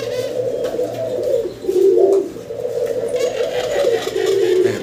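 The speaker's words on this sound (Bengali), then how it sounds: "এই যে একটা ডাকতেছে অলরেডি" Pigeons kept as breeding pairs give repeated low, throaty cooing, close and fairly loud, in rolling phrases with soft background sounds and a faint voice.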